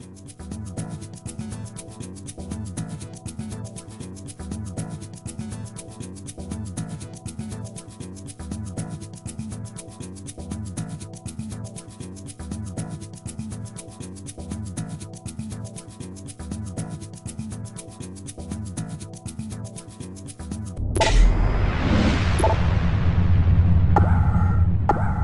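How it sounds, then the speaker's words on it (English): A screwdriver pries a cover latch off a Panduit FiberRunner cable channel, making a long run of close, rhythmic scraping strokes that ends in a louder, rougher burst of noise. "by using a screwdriver, carefully pry the cover latch away from the channel until the cover latch can be pulled up and removed"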